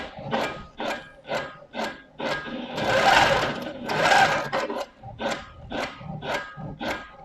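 Domestic sewing machine stitching out lettering in a font, running in repeated short bursts with stops and starts between them and a longer, louder run in the middle, close and alone.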